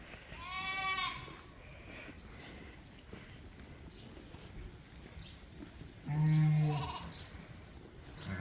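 Sheep bleating in a barn during winter lambing season, two separate calls around one and six seconds, fairly close, with quiet shuffling between them.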